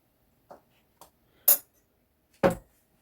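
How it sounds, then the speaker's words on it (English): A spoonful of chia seeds goes into a cup, marked by a few light metallic clinks of the spoon against the cup, spaced about half a second apart, with the last two louder. "first you're going to add in 1 spoonful of chai seeds."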